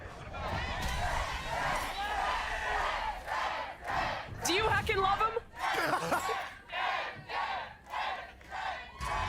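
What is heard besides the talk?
crowd chanting a player's name at a Valorant event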